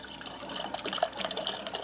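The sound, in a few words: LG refrigerator water dispenser sputtering after a filter change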